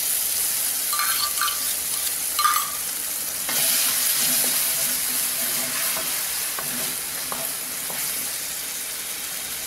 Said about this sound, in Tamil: இப்போ தக்காளி பழம் நல்லா கலர் மாதிரி நல்லா டார்க்காக வந்துச்சு